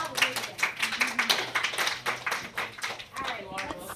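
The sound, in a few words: audience applause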